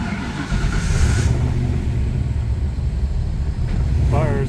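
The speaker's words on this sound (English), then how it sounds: "let's see if it fires up again" A Fox Body Mustang's engine fires up and runs with a loud, rough, steady rumble close to the microphone, under wind buffeting and a brief voice.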